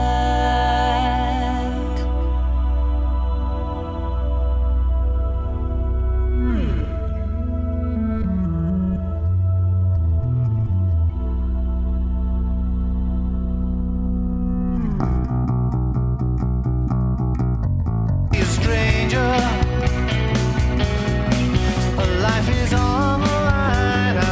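Dense layered music with sustained tones and a backwards bass solo of swirling, reversed-sounding low swells, building into a louder, busier full band section near the end.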